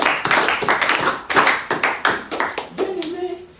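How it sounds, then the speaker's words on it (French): A church congregation breaking into rhythmic applause, a dozen or so loud, close, uneven claps, with voices mixed in toward the end. "Est-ce qu'on peut acclamer?"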